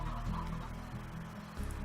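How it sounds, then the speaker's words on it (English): Chickens cluck in the Slime Rancher video game, a short burst of low, busy fowl calls that runs steadily throughout at moderate loudness. "Hello, chickens."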